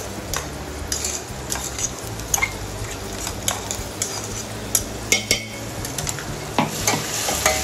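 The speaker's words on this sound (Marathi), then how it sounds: "आपला कांदा लाल होत आलाय, तर यामध्ये आपण मसाले टाकून घेऊया" Ground thecha spice paste stirred into onions frying red in a pan for chicken biryani, with brisk metal spoon scrapes and clinks against the pot over a steady sizzle, close and fairly loud.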